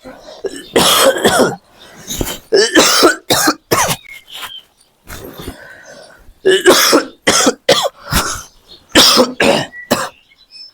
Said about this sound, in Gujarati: ભાઈ બાપુને ઉધરસ બહુ આવે છે